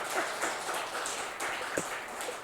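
A room full of people claps together at a lecture, a dense, even patter of many hands held steady for a couple of seconds at moderate volume with no talking over it.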